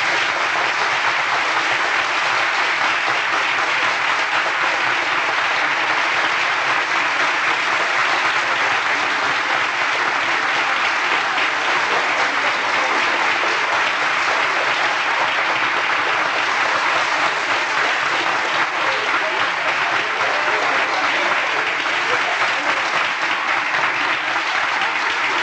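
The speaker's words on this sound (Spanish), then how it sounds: "quisiéramos invitarlos a iniciar este acto brindando un fuerte abrazo mediante un aplauso a Berta Pérez de Braslavsky" Sustained, steady audience applause at a tribute event honoring Berta Braslavsky, a thick even wash of clapping that holds at full strength for the whole stretch with no talk.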